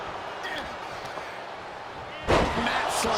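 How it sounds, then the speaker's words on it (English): A wrestler's heavy power slam onto the canvas in the WWE 2K24 video game during a Royal Rumble match, a sudden loud broadband impact near the end over ongoing crowd noise and commentary. "Now another massive power slam at the hands of Jax"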